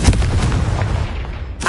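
A Confringo fire spell explosion in Hogwarts Legacy, a loud, dense booming blast that rumbles and decays over more than a second.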